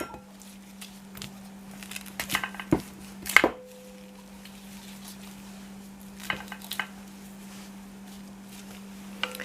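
A kitchen knife cuts slices off a whole ripe pineapple in a few short, crisp bursts of chopping, a couple of them grouped close together, over a steady low electrical hum in a quiet kitchen.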